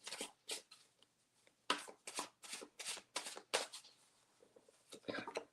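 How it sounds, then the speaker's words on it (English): A deck of tarot cards being shuffled in a quiet room, with repeated crisp riffling bursts separated by short pauses, close to the microphone. "Oh, these cards just shuffle like a dream."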